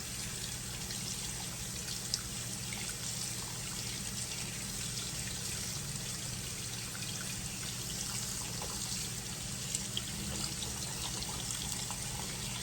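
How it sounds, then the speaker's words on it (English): Steady stream of tap water rinses a variegated Philodendron Burle Marx tissue-culture plantlet between its leaves and petioles, a continuous soft hiss and trickle with no pauses, close and even in level. "we're just going to be rinsing this off completely"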